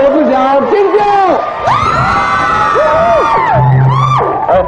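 Studio audience on a Taiwanese variety show screaming, whooping and cheering as a pop star is welcomed on stage, loud and continuous with shrill voices rising and falling, and a host's speech mixed in.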